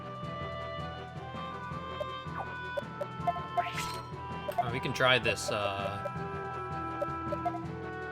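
Chicken enemies (cockatrice foes) cluck in a Radiant Historia battle, a run of short clucks and squawks rising over busy game music while players talk throughout.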